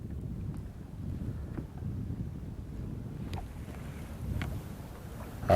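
Wind gusts over a bass fishing boat on Oklahoma water, making a low, uneven rumble with soft buffeting swells against the microphone and no talking.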